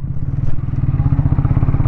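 A Speed 400 motorcycle engine throbs close by in a steady, low, rapid pulsing beat, alone and unbroken for a couple of seconds.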